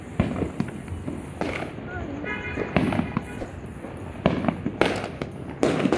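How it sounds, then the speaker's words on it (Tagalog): New Year's fireworks bang and crackle outdoors in repeated bursts, some sharp and close, others distant, with people chattering in the background. "Daming fireworks."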